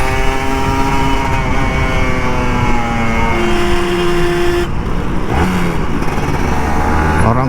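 An old Kawasaki Ninja RR 150 two-stroke motorcycle revs lightly on a street during a Sunday morning ride, loud and close, with steady buzzing engine harmonics that shift pitch slightly, mixed with nearby traffic and a horn-like tone.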